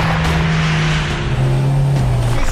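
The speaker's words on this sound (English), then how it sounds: "He's really moving down the track, accelerating like a bullet." A record-attempt speed truck accelerates hard down a track, its engine a loud, sustained roar with a steady pitch that shifts slightly as it pulls away.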